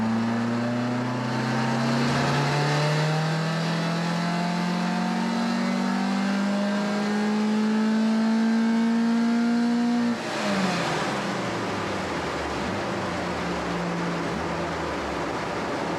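A Ford Escort Mk2 carburettor engine on a dyno climbs steadily in revs with a rising drone for about ten seconds, then abruptly drops off and runs on at lower, rougher revs.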